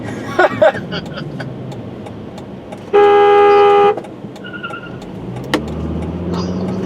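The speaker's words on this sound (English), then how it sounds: "Just honk." A car horn blares in one sustained honk lasting about a second, loud over steady traffic and road noise, with a few short knocks before it.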